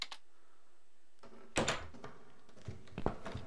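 A door in The Cat Lady video game opens with a soft thud and creak, then a couple of quieter knocks and clunks follow close by, with no talk.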